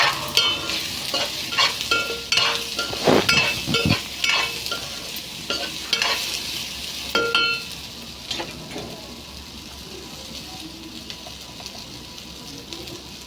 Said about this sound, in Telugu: ఇప్పుడు మనం మిల్ మేకర్స్ వేసేసుకుందాం.